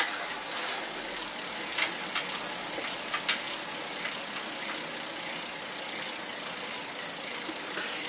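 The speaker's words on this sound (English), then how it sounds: "I'll just get my wrench on there and tighten the lock ring up." A wrench works a bicycle lock ring with faint, scattered metallic ratcheting clicks over a constant hiss of background noise, with no talking.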